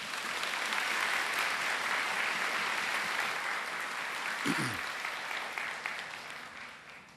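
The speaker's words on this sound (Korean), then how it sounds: "우리 큰 박수로 환영하겠습니다." Congregation at a church service applauding to welcome a speaker, a dense, steady clapping that swells and then gradually fades, heard from a moderate distance.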